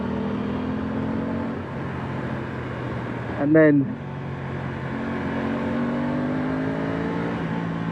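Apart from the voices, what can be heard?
Aprilia Tuono 660 Factory motorcycle engine revving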